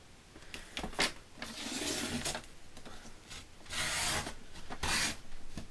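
Craft blade cutting through paper for a handmade birthday card with paper flowers, a run of uneven rasping strokes, several longer scraping passes, close and fairly quiet with no talk.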